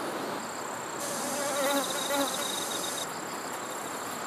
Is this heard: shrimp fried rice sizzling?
no